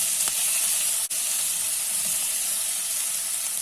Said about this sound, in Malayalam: ടൊമാറ്റോയും നന്നായിട്ട് വഴരണം.